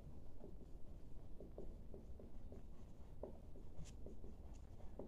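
Chalk on a board during a chemistry lecture, a series of faint, short tapping and scraping strokes in irregular rhythm over a low background rumble, with no talking.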